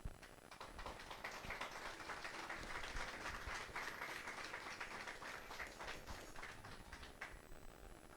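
Audience applauding the birthday girl at a gathering, a sustained wash of clapping that swells in the middle and tapers off near the end, heard from a moderate distance.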